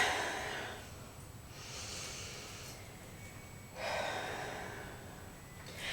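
Deep, slow breaths during a yoga pose, three airy exhalations swelling and fading close to the microphone, with no talk over them.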